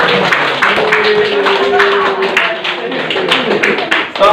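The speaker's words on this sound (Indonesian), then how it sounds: "Tepuk tangan." A classroom claps along: a group of hands beats out quick, fairly loud, rhythmic claps in a fast run, with voices talking over them throughout.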